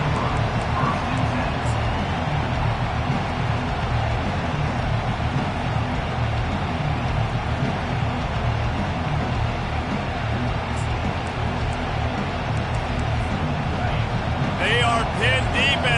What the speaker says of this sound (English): Pinned deep, and this crowd is letting them have it.